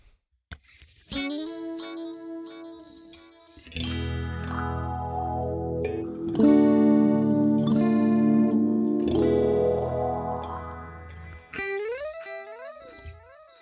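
Electric guitar runs through Guitar Rig ambient effects, with chorus-like shimmer, echo and some distortion, sustained swelling chords and pitch-bending notes, loud and close with no talk.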